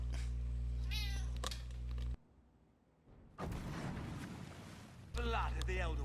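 A cat meows in Dragon Age: Inquisition, a few short mews heard near and clear, breaking through a low game drone, with an abrupt quiet gap and a burst of noisy rumble between them.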